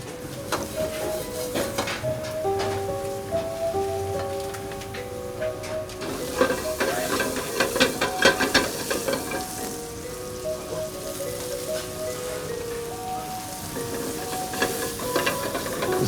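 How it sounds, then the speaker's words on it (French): Shallots and garlic frying in brown butter in a restaurant kitchen make a steady close sizzle and hiss, with stirring scrapes and faint kitchen tones running underneath. "on va mettre les échalotes et de l'ail."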